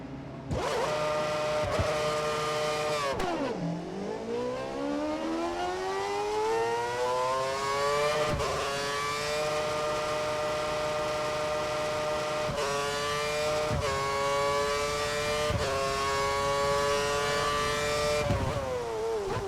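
An F1 car drives a wet track in the F1 2013 video game, its high engine whine rising through the gears with sharp shift breaks and revs that drop and climb again, loud and continuous.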